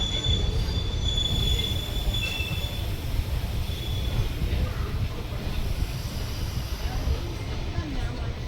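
Yesvantpur–Rishikesh express train at a station platform, steel wheels squealing in high, steady tones over a continuous low rumble, loud and close throughout.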